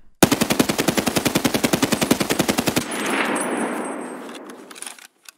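Fully automatic burst from an SA-58 rifle fired while crouched in Escape From Tarkov: a rapid, evenly spaced string of about thirty loud shots lasting under three seconds, then a ringing echo tail with faint clinking of spent casings.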